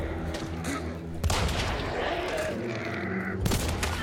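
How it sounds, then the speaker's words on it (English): Video game gunfire rattles out in bursts under a steady hum of game sound, with a louder volley near the start and another near the end. "They're shooting."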